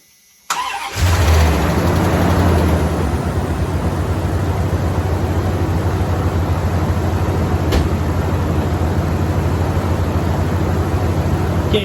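A truck engine on a 12-volt battery cranks and catches with a sudden loud start, then settles into a steady, close, rumbling idle that continues to the end.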